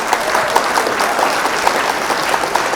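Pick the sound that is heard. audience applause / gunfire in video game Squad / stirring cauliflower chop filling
audience applause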